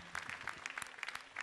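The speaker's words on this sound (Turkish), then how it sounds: "Alkışlar gelsin sevgili Hacı abime" Brief, faint applause from a studio audience on a Turkish television show, heard as a scatter of quick, light claps.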